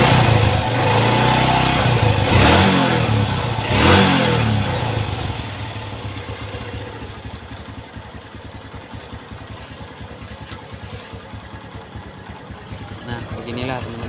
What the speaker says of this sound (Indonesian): setelah penyalaan mesin pun hidup dengan normal dan suaranya pun menjadi halus